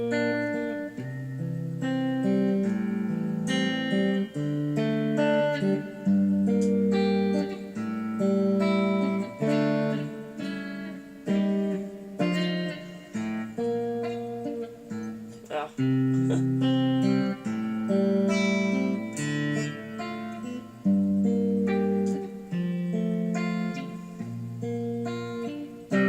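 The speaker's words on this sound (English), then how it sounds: "So let's start with that open picking in the chorus." Electric guitar open picking for the first chorus of a song, a steady flow of picked notes and chord tones played continuously and moderately loud, with no voice.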